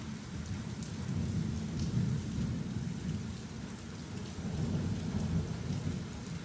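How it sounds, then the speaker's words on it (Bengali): Heavy rain pours steadily with a deep low thunder rumble rolling underneath, a continuous dense storm wash with no voices. "ঝমঝম করে বৃষ্টি নেমে বসলো বাইরে।"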